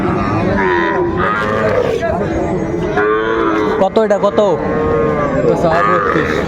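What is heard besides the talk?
bull calf mooing at cattle market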